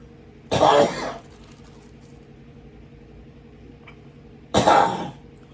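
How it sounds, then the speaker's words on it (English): Two harsh coughs, each about half a second, several seconds apart, close to the listener over a quiet background hum. "had to cough"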